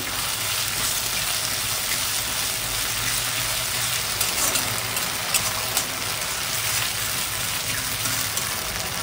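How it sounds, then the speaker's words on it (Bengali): Tomato sauce is stirred into frying chilli fish in a pan, giving a continuous loud sizzle with occasional light clinks and scrapes of the spatula, no voices. "এবার দিয়ে দেবো টমেটো সস দিয়ে দিলাম হালকা করে, দিয়ে নাড়াচাড়া করবো।"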